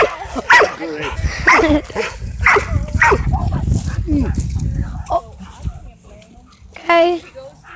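Dogs at a play date bark and yip in short, loud bursts close by, with whimpers mixed in, while people talk over and between the barks.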